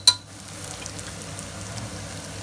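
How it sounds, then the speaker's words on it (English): A spoonful of garlic paste hits hot oil in a frying pan with a brief sharp spit, then settles into a soft, steady sizzle that runs on quietly. "I'm going to add, this is garlic paste"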